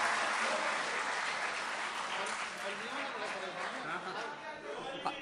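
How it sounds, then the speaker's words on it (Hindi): Audience at a mushaira bursts into loud, sustained applause that gradually thins out, with murmured chatter and a few voices mixed into the clapping. "एक बार तालियों की गूंज में इन्हें बताइए कि आप इन्हें पसंद कर रहे हैं"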